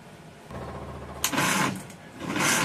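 A Suzuki F6a engine with a new battery struggles to start, the starter cranking in a rapid rhythmic whir that grows louder in two bursts without the engine catching.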